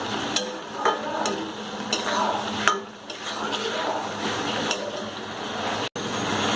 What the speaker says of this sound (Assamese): এইখিনি মই ভালদৰে মিহলাই লৈছোঁ।